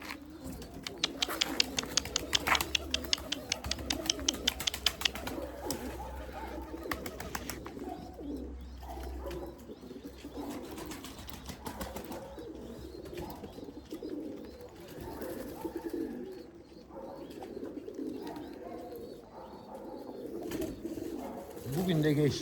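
Soft cooing of white Erzurum pigeons repeats against a busy backdrop, with a brief burst of rapid fluttering near the start.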